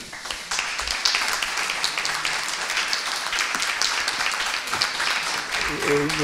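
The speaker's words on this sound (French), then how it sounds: "je pense qu'on peut les applaudir" An audience at a public debate on food bursts into applause, a dense crackle of many hands clapping continuously, with a voice briefly audible near the end.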